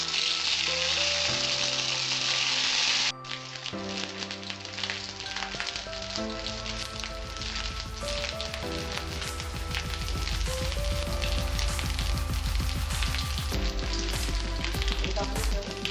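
Garlic and ginger paste frying in hot oil for Bengali-style banana-flower chops, giving a steady, loud sizzle throughout with a faint soft hiss at the start, heard under background music.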